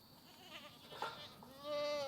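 Goats bleat on a farm, faint and somewhat distant, with a few short bleats and a longer wavering call near the end.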